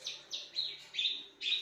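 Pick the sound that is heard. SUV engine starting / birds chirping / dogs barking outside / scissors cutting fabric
birds chirping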